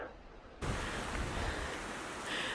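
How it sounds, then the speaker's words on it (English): A mountain stream in the White Mountains of New Hampshire near Crawford Notch gives off a steady, broad rush of moving water. It swells in suddenly after a quiet start and then holds close and even, with no voices. "it was nice to hear that sound of moving water"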